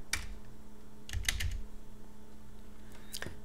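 Computer keyboard typing in a few short clusters of quick, close, soft key clicks separated by pauses, over a steady low background hum.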